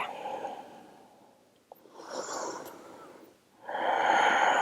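A deep breath during a yoga class: a slow, close, airy inhale and exhale, then another breath swelling louder toward the end.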